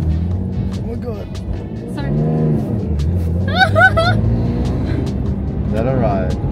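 A Lexus IS200 car driven at low speed, its engine a steady low hum under close conversation between people inside the cabin.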